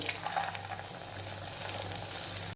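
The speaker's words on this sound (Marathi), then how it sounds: "तेल गरम झालं की मग गॅसची आच एकदम कमी करायची आणि आपले गुलाबजामुन अलगद हाताने त्याच्यात सोडायचे" Gulab jamun balls slipped into hot oil over a low flame, a steady bubbling fry sound with gentle fizzing, close and continuous, with no talking.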